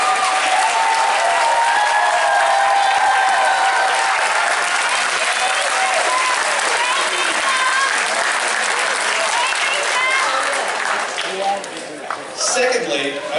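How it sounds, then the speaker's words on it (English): A large graduation audience at a commencement ceremony breaks into sustained loud applause that carries on for several seconds before thinning out, with voices mixed in among the clapping. "give your family and friends a huge round of applause"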